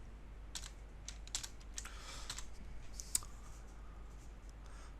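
Fingers type a password on a computer keyboard in quiet, uneven bursts of light clicks and taps, faint and close, over a low steady hum.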